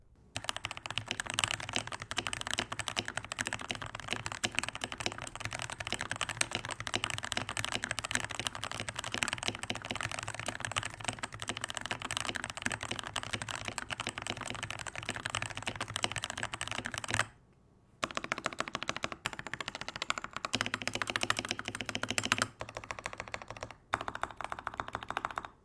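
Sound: Azio Tera75 concrete mechanical keyboard typing, Gateron G Pro switches

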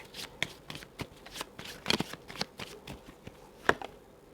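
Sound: shuffling zodiac oracle cards

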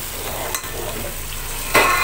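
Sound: masala being stir-fried in a pot

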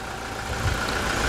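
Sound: Toyota Hilux 2.8 1GD diesel engine idling

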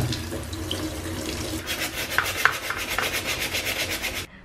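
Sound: washing a bag under a running tap

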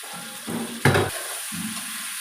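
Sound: chicken sautéing in pan

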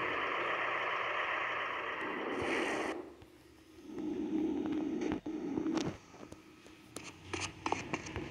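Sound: trucks with reversing beeps in a video game

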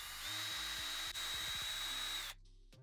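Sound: power drill drilling into a cup

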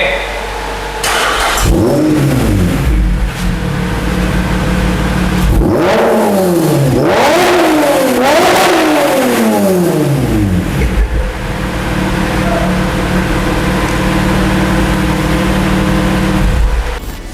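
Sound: motorcycle loud exhaust revving

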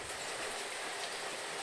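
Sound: heavy rain falling

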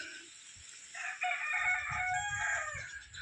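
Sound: chickens, rooster crowing

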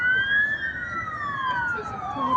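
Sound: ambulance siren passing in the street

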